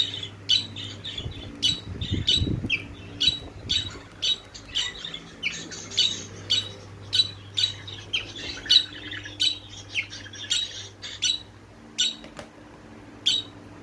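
Budgerigars squawk and chirp in a rapid, repeated series of sharp calls, close by, over a low background hum.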